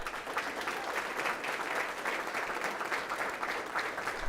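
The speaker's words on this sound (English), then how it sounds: "Let's have a round of applause for these individuals, for boys and girls." A school board meeting audience applauds powerlifting team members, boys and girls who qualified for state competition, with steady dense clapping throughout that swells slightly at the very end.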